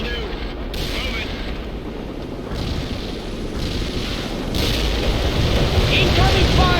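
Artillery fire and explosions from the PC strategy game World in Conflict rumble in dense, rolling booms with bursts of crackling impacts, loud and building toward the end. No one speaks.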